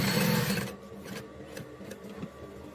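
A sewing machine stitching a handle on a bag made from jean material, a rapid mechanical rattle that runs for about half a second and then stops, followed by faint handling clicks.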